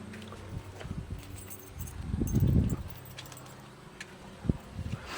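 Car keys for a 1967 Pontiac GTO tribute jingle and clink close by, with a louder rattling burst in the middle and a few sharp metallic taps near the end, no talking.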